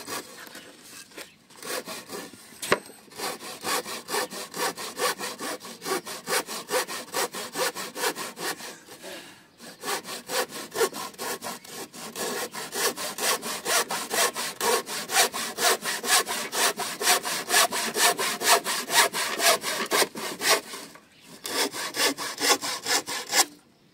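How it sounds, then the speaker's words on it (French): A hand saw cuts through wood for a chicken coop in steady back-and-forth rasping strokes, close and continuous, with a few brief pauses between runs. "Ça a l'air de bien scier ce bois là."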